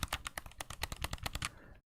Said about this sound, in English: My PlayStation controller makes noise too with the sticks.